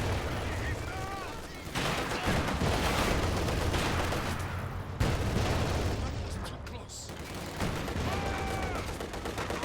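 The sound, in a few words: anti-tank guns firing in video game Company of Heroes 2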